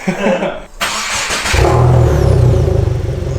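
A 2022 Subaru WRX with a Remark muffler-delete exhaust fires up after some brief shuffling noises, then settles into a loud, throaty, steady rumbling idle heard up close.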